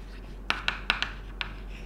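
A pen writing a math solution on paper: about five short, faint scratchy strokes in quick succession over a quiet background, with no talking.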